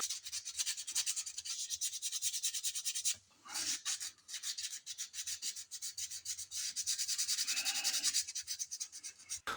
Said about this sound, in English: then some hand sanding to break down the edges